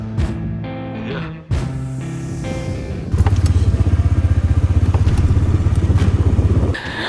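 A Polaris Ranger utility vehicle engine starts and then runs with a rapid, loud chugging putter close by while towing a broken Avid Flyer airplane toward a hangar, after some earlier mechanical clunks and a sharp knock.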